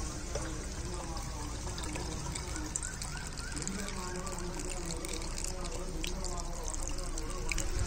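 Water pours and trickles steadily into a spray bottle, with a faint background hum and occasional small splashes throughout.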